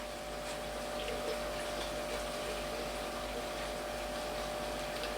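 A Python gravel vacuum runs in a large home aquarium as a steady, quiet whooshing hiss of flowing water with a faint mechanical hum, continuous and unbroken.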